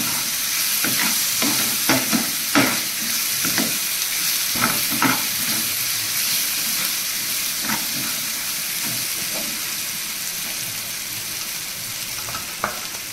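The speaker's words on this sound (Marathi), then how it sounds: "मीठ टाकायचं थोडंसं फ्राय करून घेऊया आपण" Cleaned wild mushrooms (alambi) frying with a little salt in a pan, an even close sizzle broken by scattered sharp clicks and scrapes of stirring throughout.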